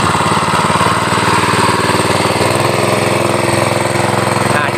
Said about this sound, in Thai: อ่าเนี่ยแค่นี้ครับเครื่องติดแล้วเราก็ปิดโช๊ค อ่าถ้าปิดโช๊คปุ๊บเครื่องก็จะติดเลยนะครับ